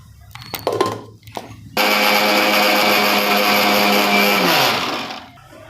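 A kitchen mixer grinder crushes grated coconut into fine powder. A few clatters come first, then a loud, steady motor whine runs for about three seconds and winds down.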